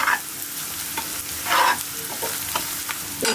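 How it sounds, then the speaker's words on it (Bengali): An egg frying in oil in a pan crackles and sizzles up close, with a few sharper bursts and spatters over a steady hiss, and no one speaking. "তেলে এই সাইডে ডিম দিয়ে ভেজে নিই"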